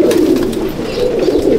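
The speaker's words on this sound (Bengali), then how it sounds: "খুব ভালো পায়রা দেখাচ্ছি" Madrasi pigeons coo in a loft with a steady, close, low, throaty murmur that carries on without a break.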